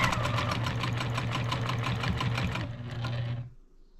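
A sewing machine chain-stitching quilt pieces made from jelly roll leftovers, running at a fast, steady mechanical rhythm close by, then slowing and stopping near the end.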